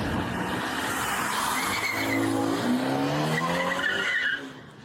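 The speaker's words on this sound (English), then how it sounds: "Why is she revving up like that?" A car revs hard and its tires skid and squeal continuously at close range, loud throughout before dropping off sharply near the end.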